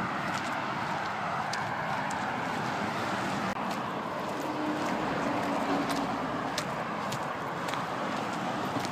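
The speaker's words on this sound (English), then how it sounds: "we're right at the side of the hard shoulder of the M62, with just a little thin fence that's separating us" Heavy lorries and traffic roar past on the M62 motorway beside the hard shoulder, a dense continuous broadband rumble with swelling passes, loud and close throughout.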